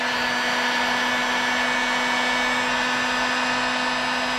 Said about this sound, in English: if you use the heat gun, makes a really nice looking end.